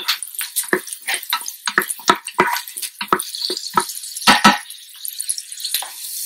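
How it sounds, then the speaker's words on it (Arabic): Onions and carrot sizzle in a pot with oil, crackling and spitting irregularly in close, sharp pops with a hissing wash between them, no talk. "جزرة وحدة قسمناها وبصلتين وسط قسمناهم وعم نقليهم"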